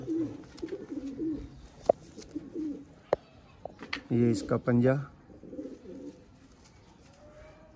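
Pigeons coo in a series of low, rounded bursts, loudest near the middle, while someone talks close by between the calls.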